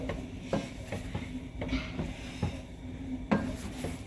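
A spoon stirring melted marshmallows in a pot for s'mores bars, with repeated soft scraping and sticky rubbing strokes at a steady, unhurried rhythm, close and moderately quiet with no talk.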